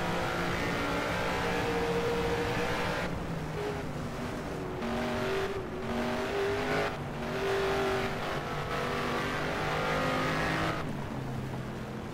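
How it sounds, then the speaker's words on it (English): Works McLaren Can-Am race car, 1971, driven on-board for a lap at Donnybrooke: a loud, continuous close engine roar with rising and falling revs through gear changes, alone with no talk. "have a ride on board with David Yates for a lap and watch the Works McLaren"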